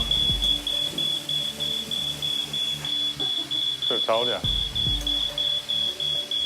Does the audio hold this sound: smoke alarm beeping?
yes